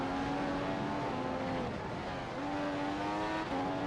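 F1 race car in a video game at the Austrian circuit, engine screaming at high revs through the final corner, pitch dipping on a downshift then climbing again, loud and steady with no talk.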